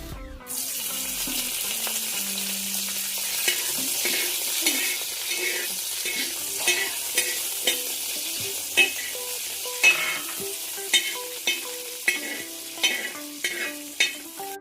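Curry leaves crackle and sizzle in hot coconut oil in a pan for chicken curry, a dense close frying hiss punctuated by regular clinks and scrapes of stirring.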